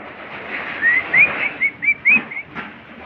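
Two birds in a home bird house give short, bright whistled chirps, about half a dozen in quick succession, close by with no talking.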